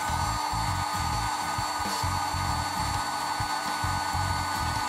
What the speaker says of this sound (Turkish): bir müddet tekrar fön makinesiyle ısıtıp zincirin